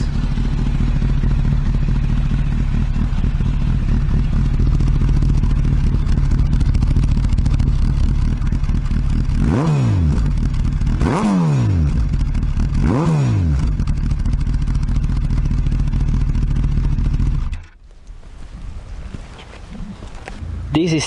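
A loud Honda CBR 1000RR motorcycle engine idles close up, then revs three times in rising and falling surges before cutting off abruptly near the end.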